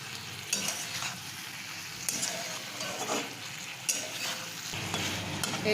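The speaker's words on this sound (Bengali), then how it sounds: "এখন সয়াবিন আর সবজির সঙ্গে একসঙ্গে ভালো করে মিশিয়ে নেবো" Soya chunks and vegetables are stirred in a frying pan, giving a steady close sizzle with scraping strokes and occasional utensil knocks, no voices.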